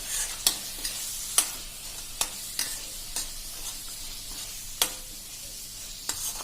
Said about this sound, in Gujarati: મિત્રો હવે આ બધું આપણે મિક્સ કરીને મસાલા મિક્સ કરી લેશું